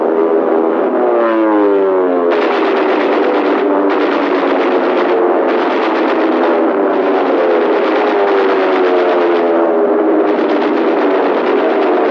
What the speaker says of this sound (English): More than 800 Allied planes went into action, some 600 of them piloted by Americans.